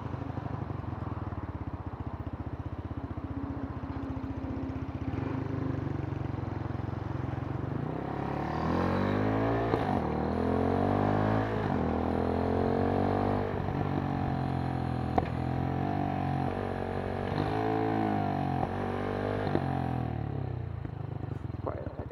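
A Kymco K-Pipe motorcycle engine drones steadily under wind, then revs climb and drop repeatedly as the rider shifts through gears, close and continuous.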